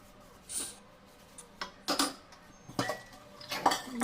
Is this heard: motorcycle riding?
no